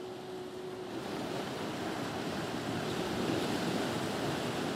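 Ocean waves wash onto the shore in a constant rolling roar, mixed with some wind, heard alone with no voices.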